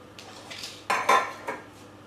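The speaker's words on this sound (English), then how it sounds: "you're just going to want to start to spoon the mixture in to the cupcake cases." Spoon scraping and tapping against a bowl while cake mixture is spooned into cupcake cases for witch-hat bakes, a few close, bright clinks in quiet surroundings.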